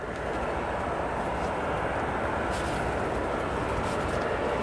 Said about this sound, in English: this other aircraft in front of you is an EVA Air Cargo Boeing 777